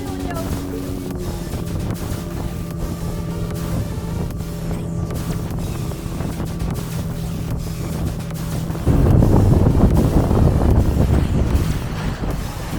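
A speedboat ride off Anjuna beach in Goa, with a steady engine drone and heavy wind buffeting the microphone; the rushing noise grows louder and rougher near the end as the boat picks up speed.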